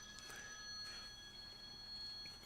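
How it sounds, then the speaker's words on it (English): A phone rings faintly in a quiet room, a thin electronic tone holding steady at a low level through the whole stretch with no talk over it. "Is my phone ringing?"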